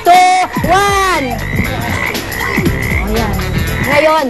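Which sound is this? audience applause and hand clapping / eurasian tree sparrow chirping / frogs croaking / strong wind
frogs croaking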